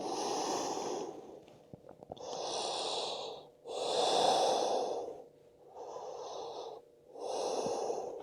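Slow, deep yoga breaths are heard close up during a gentle mobility practice: a long, airy inhale or exhale, then a pause, repeating about five times in an even rhythm in a quiet room.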